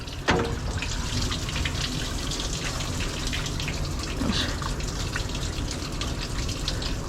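Water running steadily from a tap while a dog is rinsed during a bath, a continuous close splashing wash that holds through the whole stretch.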